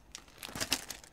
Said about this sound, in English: another plastic bag, ho-hum